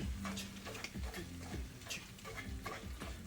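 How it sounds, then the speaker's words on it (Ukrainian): Cooked mussels stirred in a pan, a steady run of wet scraping and clicking shell sounds over a soft sizzle, close and continuous throughout. "ще разок перемішаю все ж таки"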